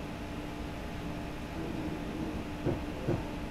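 Class 315 electric commuter train running through a tunnel in Train Simulator 2020, a steady low rumbling drone with faint rhythmic clunks near the end.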